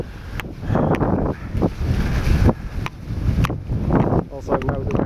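Gusty wind buffets the microphone with a constant low roar, rising and falling in strong bursts throughout.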